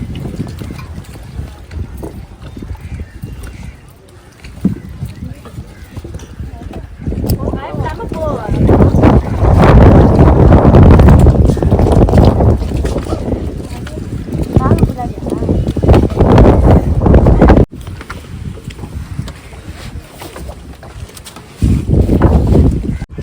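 A motor boat on a lake, heard aboard with passengers seated, carrying a steady broadband rush of water and wind noise across the microphone that swells louder midway, with brief breaks and voices talking intermittently over it.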